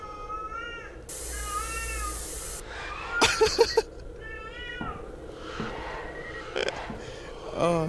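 Cats meow repeatedly in the horror video game Erie, several rising and falling calls spread across the stretch with a burst of static-like noise and a few sharp clatters between them, fairly close and clear.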